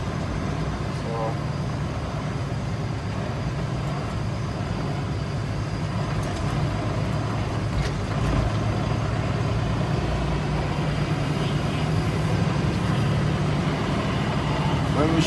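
A truck engine runs steadily and loudly at close range while the driver double clutches through the gears, shifting from fourth to fifth, with engine tone shifting slightly between gear changes; someone talks over it throughout.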